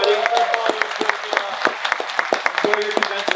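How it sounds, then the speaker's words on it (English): An audience claps at a voice actors panel at a fan convention, with dense, sustained applause full of sharp individual claps and a few voices in the crowd. "Can I get a huge round of applause?"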